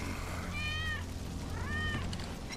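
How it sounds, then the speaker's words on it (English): In the Final Fantasy VII Remake video game, a cat gives two short, clear meows about a second apart. They sound faint and distant over steady low background hum. "That's Wedge's cat."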